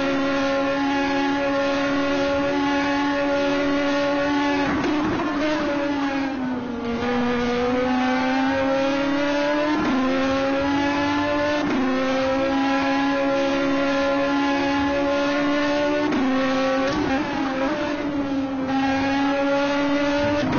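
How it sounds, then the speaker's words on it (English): Race car engines in a racing video game at Road America howl steadily and loudly, with their pitch dropping and climbing at each gear change as the cars shift up and down and accelerate out of corners, with no talking. "Great to hear the sound of these cars as they make their way through the gears, up and down, accelerating out of the corners"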